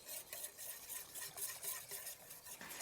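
A whisk stirs flour into chocolate dump cake batter in a bowl, giving a steady run of close, rhythmic scraping and tapping strokes with no talk.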